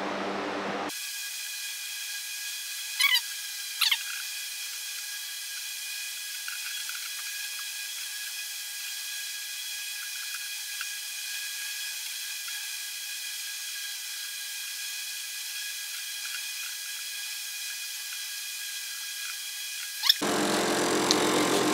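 A steady, close hiss of spray coating drilled holes in a Jeep bumper runs unbroken for about twenty seconds, with a couple of faint clicks near the start and no voices.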